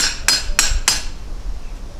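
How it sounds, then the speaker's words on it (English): Three sharp metallic hammer strikes on rebar being driven into garden ground ring out close by in quick, even succession, followed by quiet. "hammer it about halfway down"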